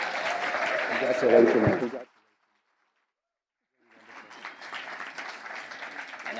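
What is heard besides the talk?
audience applause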